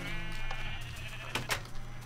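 Sheep bleating in the Minecraft video game, a few short bleats over steady game background noise, with no talking.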